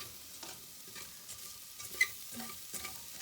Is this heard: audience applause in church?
no